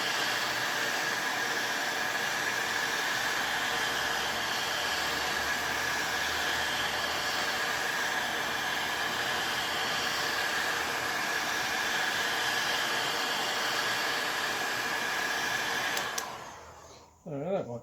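A heat gun blows a steady, even hot-air roar while heating a motorcycle wheel hub around the bearing on a GasGas bike, running continuously before switching off abruptly near the end.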